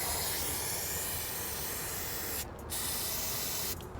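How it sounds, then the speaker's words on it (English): Brake cleaner spray hissing loudly and continuously at close range over a 2005 Chevy 5.3 engine, with two short pauses between bursts. "spray this off with some brake clean"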